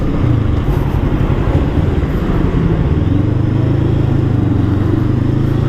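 Bristol Veloce 500 parallel-twin motorcycle on the move, a loud, steady engine drone with wind and road rumble that shifts to a deeper, sustained tone about halfway through as the bike rides on.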